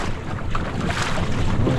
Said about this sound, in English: And then suddenly I have more wind than I want.